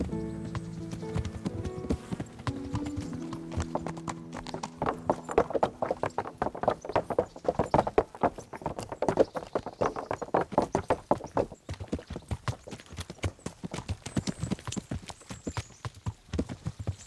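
Horse hooves in the medieval video game Kingdom Come: Deliverance, a rhythmic clip-clop of a trotting horse, steady and close, following a short stretch of soft music.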